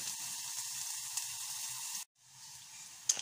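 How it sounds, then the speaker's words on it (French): Shallot sautéing gently in butter until just lightly golden gives a soft, steady frying hiss, briefly cut off partway through before resuming, with a small click near the end. "vous faites revenir votre échalote. Alors il faut que l'échalote soit blondie. Pas dorée, mais juste un peu blondie dans le beurre"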